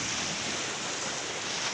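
High sea surf breaking at the shore, a steady loud broadband roar of waves with wind, continuous and close, with no voices.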